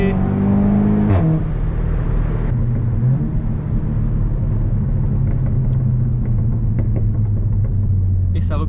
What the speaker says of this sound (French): ça repétarade de partout, j'adore